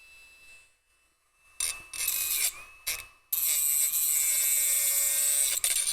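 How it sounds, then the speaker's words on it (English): A Dremel rotary tool grinds through a piece of metal. After a faint, quiet start, it whines loud and close in several bursts, then runs in one long, steady, high-pitched cut. "This is one of the more awkward Dremel cuts that I've ever done."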